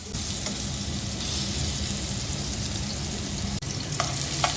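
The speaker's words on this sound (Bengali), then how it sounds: "আর আরেক পাশে আলুটা আমি তেলে ভেজে নিচ্ছি" Potatoes and chopped onion frying in oil in a home kitchen pan, a loud continuous sizzle with steady crackle and brief stirring scrapes near the end.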